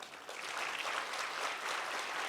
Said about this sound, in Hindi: जोर से ताली मारिए।